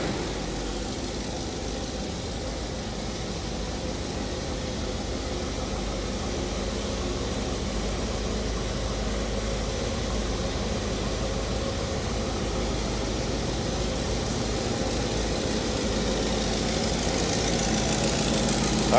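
A 1966 Oldsmobile 98 convertible engine runs steadily at idle, heard from the rear of the car as a continuous low rumble with even loudness and no talking.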